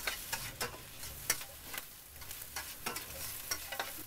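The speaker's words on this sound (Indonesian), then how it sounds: "Kita aduk lagi." Pineapple fried rice with spring onions is stirred in a frying pan, a soft steady sizzle broken by repeated scraping and tapping strokes of the spatula, close and fairly quiet.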